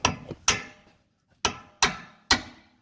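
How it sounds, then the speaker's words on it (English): Several sharp hammer blows on metal under a Range Rover Sport during electronic parking brake actuator removal, loud and close, one pair then three spaced strikes after a pause, each ringing briefly. "If you can swing the hammer up there."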